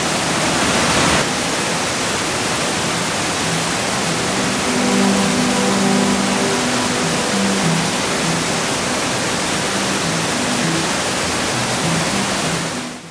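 Underground waterfall deep in the Corchia cave, running light, pours as a steady, dense roar of falling water that fills the space evenly from start to finish with no voices.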